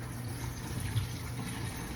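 Running tap water pours steadily as raw fish is rinsed off in a home kitchen, a continuous close splashing wash with no talking.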